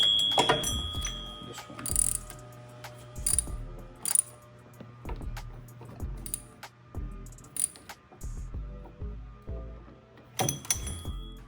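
Ratchet wrench clicking in repeated bursts while tightening bolts on the power steering pump of a 2008-2012 Honda Accord 2.4L, close and fairly loud, with a brief spoken remark.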